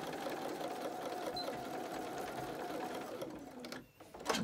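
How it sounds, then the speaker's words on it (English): A sewing machine hums steadily while stitching a 1/4-inch seam on a fabric face mask, then stops near the end, followed by a short handling noise, close and alone without speech. "just sew right around this seam"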